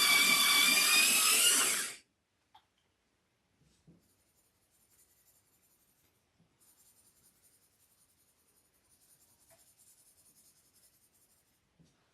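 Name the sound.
sharpening a colored pencil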